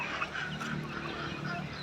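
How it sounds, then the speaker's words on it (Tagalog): Ducks, alongside a turkey and a chicken, feeding noisily on harvested rice grain on a farm, giving a steady jumble of quacking and fowl calls close by with no talk. "Ito mga pato"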